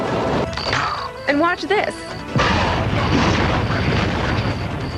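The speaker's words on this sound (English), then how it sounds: "The natural environments like rocks will become a hazard when destroyed." Rocks are blasted apart in a video game: a loud booming crash hits midway and rolls into a sustained rumbling roar, following a stretch of game effects and a speaking voice.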